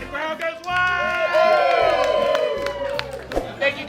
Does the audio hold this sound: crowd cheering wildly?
yes